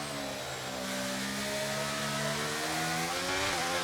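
A Formula 1 car's engine in the F1 23 racing game drones steadily and loud, its harmonics gliding gradually upward as it accelerates through a low gear, with no talk over it.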